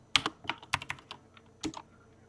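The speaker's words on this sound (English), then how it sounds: "I'm just typing it in my Omni box" Typing on a computer keyboard, a handful of sharp, close key clicks in an uneven burst followed by a short pause and a couple more taps, with no voices.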